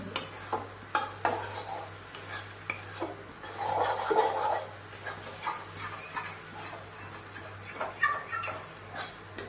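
A pan of carrot halwa cooking in handmade pure ghee is stirred with a utensil, giving repeated scraping strokes over a soft sizzle, close and steady with no talk.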